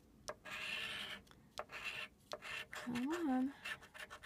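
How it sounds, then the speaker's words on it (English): A scratch-off lottery card scraped with quick rasping strokes that come in short bursts, close and fairly quiet, with a voice speaking briefly partway through. "it feels like it's easier to scratch, but it seems like it don't take off enough of the scratchy material"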